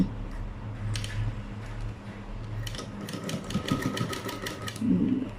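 A sewing machine stitches a double-folded fabric hem in a tailoring class, a close, busy mechanical whir with rapid ticking bursts that speed up and pause as the cloth is guided.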